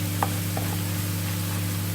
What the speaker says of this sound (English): I'm just going to stir that around to get those raw flavours off